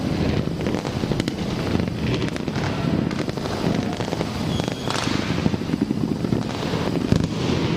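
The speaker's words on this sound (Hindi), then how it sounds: "आतिशबाजी का सिलसिला जारी है" Fireworks burst continuously over Karachi's seafront at the New Year 2020 celebration, a dense crackling barrage of pops and distant booms with wind rumble and crowd noise behind.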